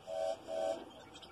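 A steam train whistle from a tank engine gives two sustained shrill blasts, each about a quarter second, close and moderately loud, with faint background noise afterward.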